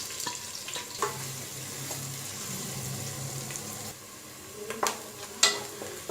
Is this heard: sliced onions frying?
yes